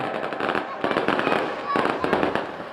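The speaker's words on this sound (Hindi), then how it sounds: "अब आतिशबाजी का नजारा आपके सामने है।" Fireworks burst at a Dussehra Ravan Dahan festival in Pali, Rajasthan: rapid crackling pops and booms come in three dense clusters, loud and close, with a voice and crowd noise mixed in.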